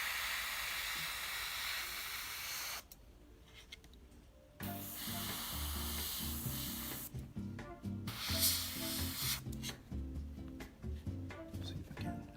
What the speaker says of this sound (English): I like to support the airbrush with my finger here.